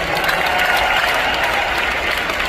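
A loud, full crowd breaks into applause at a live stand-up comedy show in the USA, thick continuous clapping without a break, close and enveloping.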